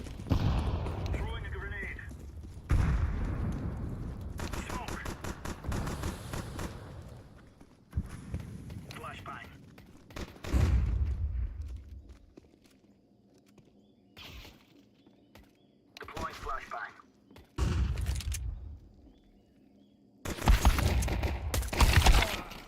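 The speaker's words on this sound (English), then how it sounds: "Incendiary out. Grenade out." Counter-Strike 2 incendiary and grenade blasts come in several heavy booming bursts with rumbling tails, separated by quieter gaps, alongside footsteps and gunfire, loud and close.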